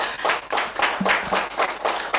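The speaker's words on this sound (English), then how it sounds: "Please be kind with the applause" Audience claps at a morning show ceremony, a short burst of crowd applause in uneven waves, fairly loud and close, with a brief faint murmur mixed in.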